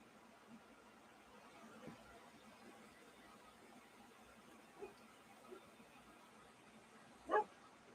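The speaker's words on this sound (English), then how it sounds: "Excuse the dogs." Indoor dogs give a few faint, scattered barks at a distance, followed by one sharper, louder bark near the end, over quiet room tone.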